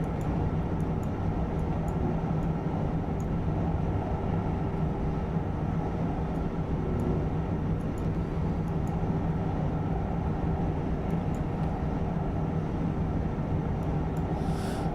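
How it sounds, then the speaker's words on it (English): A TGV Duplex high-speed train in Train Simulator 2016 runs with a steady, loud mechanical drone and low rumble that holds evenly throughout, with faint ticking clicks above it and no talk. "But oddly enough, this train don't want to accelerate."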